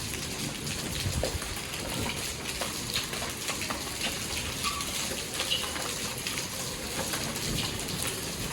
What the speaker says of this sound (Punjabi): ਆ ਦੇਖੋ ਕਿਵੇਂ ਡਿੱਗਦੇ ਆ ਗੜੇ